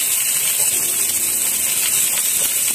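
Chopped shallots and garlic fry in hot oil, giving a loud, steady, close sizzle with a bright hiss throughout.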